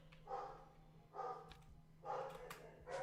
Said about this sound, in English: Can you hear my dogs barking?